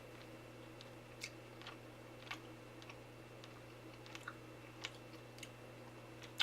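Soft, wet chewing of 13-year-old canned mackerel, close to the ear, with small irregular clicks and squishes over a steady low hum, with no talking.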